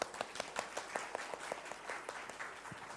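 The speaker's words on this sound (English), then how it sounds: "Please give Minor International our applause." Brief applause for Minor International at Thailand's top corporate brands awards, a thin patter of hand claps with a few louder individual claps standing out, no voices.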